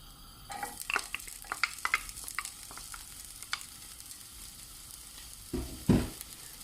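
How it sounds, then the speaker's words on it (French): Onions sautéing in oil over low to medium heat in a pan, a soft steady sizzle with scattered crackles and pops, then a louder clatter of stirring near the end; no talk. "je fais chauffer mon huile sur un feu doux ou un feu moyen. Ensuite, je vais venir ajouter les oignons."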